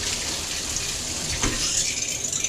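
Warm water spraying into a Kuppet portable washing machine, a close, steady gushing rush of water filling the tub, with a brief surge partway through.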